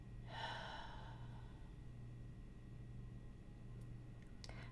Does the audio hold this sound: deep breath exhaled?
yes